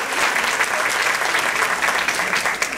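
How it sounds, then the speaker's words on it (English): An audience at a Century Village event in Boca Raton applauds, a dense steady wash of clapping that carries on evenly throughout without a break. "Can we have a round of applause for Commissioner Aaronson, please?"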